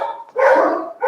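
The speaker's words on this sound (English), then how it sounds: "Here's your dog barking." A dog barks in a couple of loud, close, rough woofs, with a brief gap between them and no talking over them.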